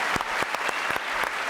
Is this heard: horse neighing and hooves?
no